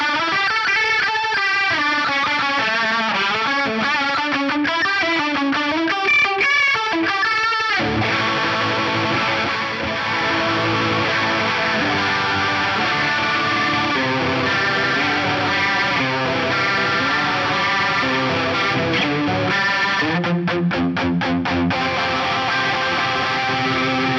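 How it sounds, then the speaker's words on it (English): An electric guitar played through a chorus effect with an FET boost, a shimmering, gently wobbling tone; a clean melodic passage gives way to fuller, driven chords that continue steadily, then a quick strummed burst near the end. "we'll hear chorus before the boost and after the boost"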